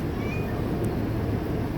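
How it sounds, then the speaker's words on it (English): A cat gives a brief, faint meow over a steady indoor background hum, with no talking. "He's meowing and purring and loving on everything."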